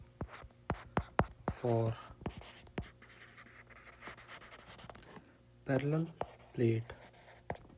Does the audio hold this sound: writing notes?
yes